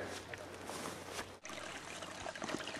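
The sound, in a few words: small babbling brook running down a hill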